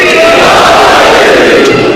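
A crowd at a religious gathering in Mandi Bahauddin shouts a slogan together, a loud, dense massed roar of voices held for the whole moment.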